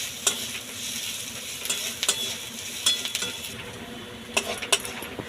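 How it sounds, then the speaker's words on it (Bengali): Green chilli and spices frying in a pan, a steady sizzle broken by several sharp clinks and scrapes of a utensil stirring against the pan. "এবার এটা আমি ভেজে নেব।"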